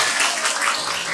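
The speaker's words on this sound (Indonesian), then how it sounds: "Tepuk tangan untuk perempuan." Audience applause during a Sundanese-language Maulid Nabi religious sermon, a dense, steady wash of many hands clapping at once, held at an even loudness from start to finish with no voices rising above it.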